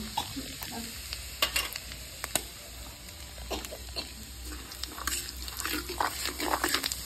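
Nigella seeds (black cumin) crackle and sizzle in hot oil in a pan, with scattered clicks and scrapes of stirring, fairly close and steady, with no talking.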